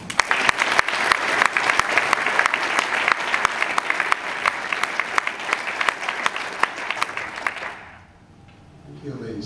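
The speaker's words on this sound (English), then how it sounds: "Join me in giving a big round of applause to Steve Hilton" A large morning gathering at the 2012 Home For Good event applauds Steve Hilton. Dense, steady clapping lasts several seconds, then fades out quickly into near silence.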